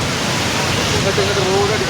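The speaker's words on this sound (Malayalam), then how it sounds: "കുറച്ച് ഡേഞ്ചറായി മറിഞ്ഞു വെള്ളം മറിയുന്നുണ്ട്" Floodwater surging after heavy rain in Malappuram, a loud, steady broadband roar of rushing water that fills the whole clip, with a faint voice briefly audible underneath.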